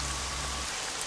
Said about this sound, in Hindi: उस दिन मौसम काफी खराब था और तेज बारिश भी चालू हो गई थी।